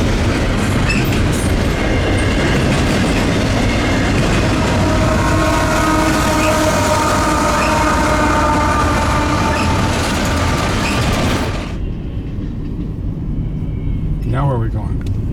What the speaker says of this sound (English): we saw this CN Intermodal with a 100th anniversary leader